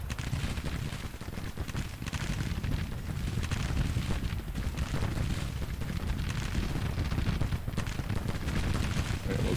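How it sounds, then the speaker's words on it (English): Civil War artillery in the Grand Tactician strategy game fires in a dense, continuous rumble of booms and distant gunfire that holds steady and loud throughout, with no pauses. "Is this artillery shooting at anybody?"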